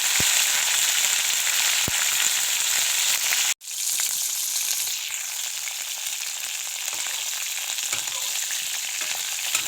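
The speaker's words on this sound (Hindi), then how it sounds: "गोभी को मैं तेल में फ्राई करके लाल लाल कर देती हूँ" Cauliflower florets frying in hot oil for an egg curry, a loud, steady bright sizzle that drops out for a moment partway through before resuming, with no talking.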